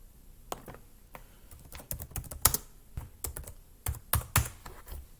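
Close typing on a computer keyboard comes in irregular bursts of sharp clicks, with a few heavier thumps like the space bar, against a quiet background and with no voices.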